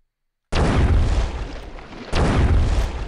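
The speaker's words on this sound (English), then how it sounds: "the bomb explosion is working" Two booming explosion sound effects from a PyGame Zero treasure hunt game, each a loud abrupt blast that decays into rumble, the second following about a second and a half after the first, with no talk.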